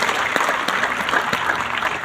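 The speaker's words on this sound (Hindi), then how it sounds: "एक बार जोरदार ताली आप सभी लोगों के लिए" Audience applause: a dense, steady burst of many hands clapping together, fairly loud and close, filling the whole moment without talk.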